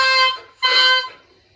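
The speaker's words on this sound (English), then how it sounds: "And you can play the reed by itself." A bare oboe reed, two pieces of cane tied onto a tube, is blown alone and gives two short, loud, buzzy squawks separated by a brief gap, close up.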